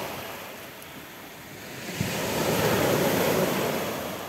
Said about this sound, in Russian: Прекрасное море сегодня. Просто волшебное.